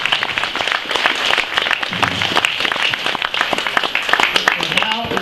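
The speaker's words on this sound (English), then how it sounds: "give you a massive round of applause for being a wonderful volunteer" Audience applause for a volunteer at a live show at the Stockmen's Hall of Fame, a lively stretch of many hands clapping with crowd noise and voices mixed in, loud and sustained throughout.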